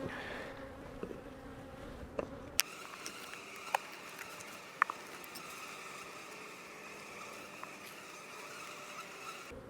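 Bees hum around open nucleus beehives in a faint, steady drone with an occasional louder buzz as one passes close, plus soft clicks and small knocks from handling the hive, with no talk.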